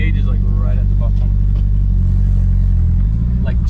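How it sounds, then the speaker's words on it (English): A Nissan 240SX's exhaust drones loud and steady from inside the moving car, a deep low rumble that shifts pitch slightly, with voices talking over it. "Hear that exhaust?"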